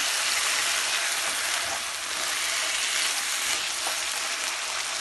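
Masala being fried in a pan, a dense, continuous hiss of sizzling oil close up, loud and even like rain on a surface, with no voices.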